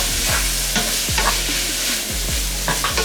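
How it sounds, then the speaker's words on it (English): Jackfruit sautéing in a hot pan hisses loudly and steadily up close, punctuated by several scraping stirs about every half second, with no talking. "You're gonna let this saute for about another 2 to 3 minutes"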